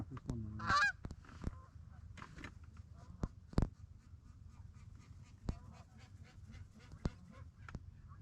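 Geese honking as they fly in during an early-season goose hunt in North Dakota, a brief burst of calls near the start, then scattered faint honks and sharp clicks over a quiet field.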